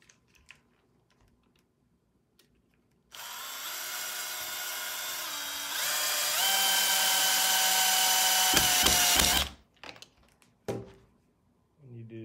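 A power driver runs a screw into a chick brooder frame, a loud whirring whine that steps up in pitch partway and ends suddenly, followed by handling clatter and a few knocks.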